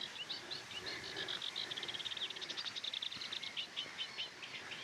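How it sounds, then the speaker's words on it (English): Warblers chatter unseen in reeds at a marsh reserve: fast, scratchy, high chirping phrases repeat continuously at moderate distance, faint over a soft outdoor background, with no talking. "The warblers that are in there. You can hear them chattering away."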